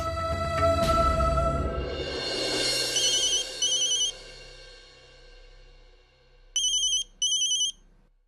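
A telephone rings in a Hindi TV serial scene. Two short electronic ringtone bursts sound in quick succession, preceded by dramatic music swells and a fading sustained tone.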